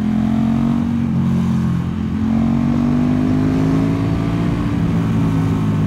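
A KTM 1290 Super Duke R motorcycle engine under way, a loud steady drone with slowly rising pitch as it pulls, heard close with wind rush and no talk.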